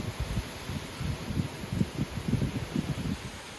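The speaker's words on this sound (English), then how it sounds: "Windy day today." Gusty wind blowing outdoors near a backyard basketball area on a windy day, low buffeting rumbles rising and falling steadily over a faint constant hiss, no voices.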